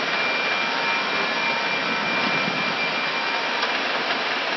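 Airbus jet engines roar at takeoff power during rotation, a loud, continuous broadband rush heard from inside the aircraft, steady across the whole few seconds with no speech.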